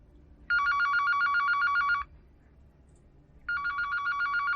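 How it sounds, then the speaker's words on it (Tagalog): A telephone rings in two loud, close electronic bursts, the first lasting about a second and a half and the second starting after a short quiet gap, over a faint background hum. "Narinig ang biglang pagtunog ng kanyang telepono."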